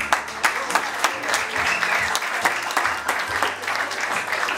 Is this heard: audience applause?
yes